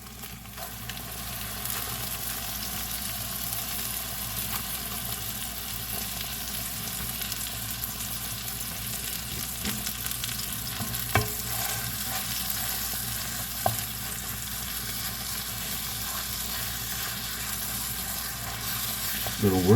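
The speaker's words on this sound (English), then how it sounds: "Now it is time to add our turkey." A full pound of ground turkey sizzles in a pan with nearly caramelized onions, giving a steady, even frying hiss that runs unbroken, with a couple of faint clicks near the end.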